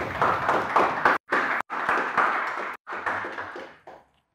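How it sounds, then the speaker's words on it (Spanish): Studio audience at a Bible study broadcast clapping for the production team, a dense burst of applause broken by several abrupt cuts before fading out. "Un aplauso a producción, por favor."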